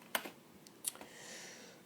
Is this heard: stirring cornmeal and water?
no